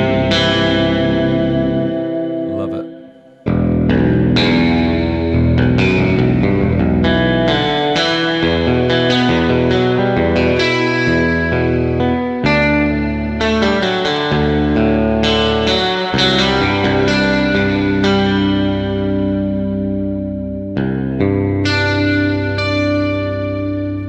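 Sampled electric guitar drenched in distortion, chorus and echo effects plays a run of sustained notes climbing from low to high, rich and reverberant with no voices.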